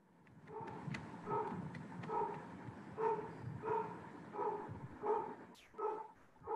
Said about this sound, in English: Their dog is barking in the background.